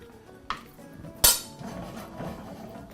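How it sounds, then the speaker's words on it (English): Stewed chicken sauce stirred in a pot brings two sharp metallic clanks of a utensil against the pot, the second louder, followed by soft scraping and stirring, close up with no talk. "We're gonna mix it around."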